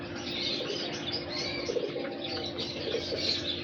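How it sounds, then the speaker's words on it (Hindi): Pure Heera Lal breeder pigeons in a home loft give soft continuous cooing and chirping with rustling, moderately close, no voices. "खालिस हीरा लाल कबूतर है"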